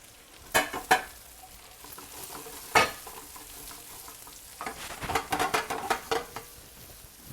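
Food sizzles in ghee in a pan at an Indian restaurant-style cooking session, with soft frying hiss under a few sharp clinks and scrapes of a spoon stirring.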